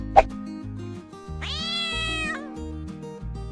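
Josie, a cartoon cat in a Minecraft animation, gives one clear, drawn-out meow over background music, with a short click just before it.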